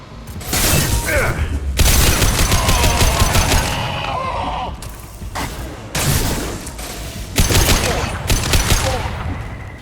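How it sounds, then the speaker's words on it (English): Gunfire in the video game Mass Effect 2: loud, dense bursts of automatic weapon fire in several long volleys separated by short gaps, with mechanical clatter and occasional game voice lines mixed in. "Firing a high-impact shot."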